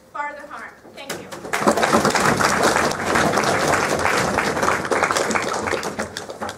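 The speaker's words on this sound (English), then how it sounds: "Thank you for all the round of applause." Audience applause following a debate speech, a brief voice at first, then a dense, sustained wash of clapping from a large crowd lasting several seconds.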